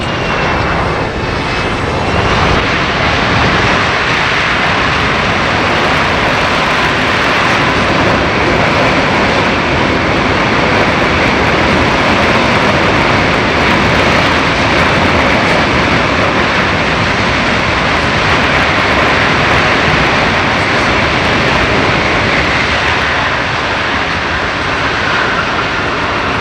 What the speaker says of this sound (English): As soon as they touch down, they'll thrust reversers, and this is about as much noise as this airplane will ever make.